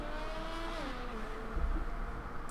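A Ferrari Formula 1 car in the F1 2020 racing game heads into the pits at the Australian GP, its engine a faint, steady whine with slowly sliding pitch and a soft low rumble toward the end.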